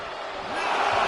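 A wrestling arena crowd swells into a broad, loud roar of cheering that builds over a second or so, dense and unbroken.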